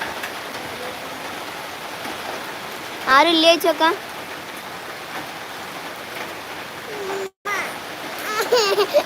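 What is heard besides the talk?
heavy rain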